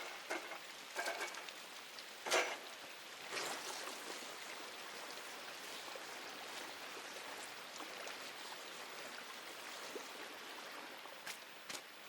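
A character wades through muck and water in the video game INSIDE. The sloshing is soft and continuous, with a few sharper splashes, and stays quiet throughout.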